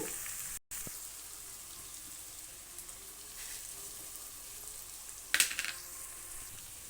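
Ingredients fry quietly in a pan with a faint, steady sizzle, and one sharper clatter of a utensil comes near the end.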